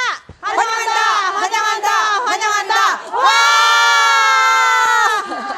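A crowd at a press conference shouts in unison, with loud, tonal group chanting in rhythmic bursts followed by a long, sustained collective shout.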